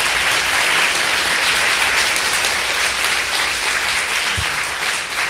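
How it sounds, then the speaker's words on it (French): A conference audience applauds the speaker Thibaut at the close of a talk on super-intelligence, with dense, loud, continuous clapping filling the room from start to finish and no speech over it. "Je pense qu'on va applaudir à nouveau Thibaut et le remercier."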